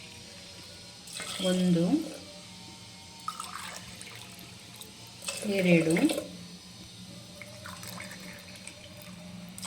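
Water poured from a glass into a pot for millet pongal, two short splashing pours a few seconds apart, while a person counts aloud over faint background hum.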